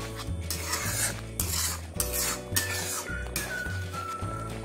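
A spoon stirs mango purée thickened with cornflour in a pan, scraping in repeated strokes about once a second. The rasping is close and fairly loud over a constant low hum, with no voices.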